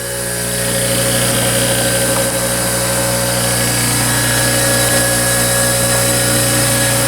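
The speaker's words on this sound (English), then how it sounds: "I'm going with a finer grit of the bench grinder wheel. Just go right on the side of the wheel." A bench grinder with a finer grit wheel spins with a loud, steady whine and hum while a part is ground on the side of the wheel during a small engine build, continuous and close with no speech.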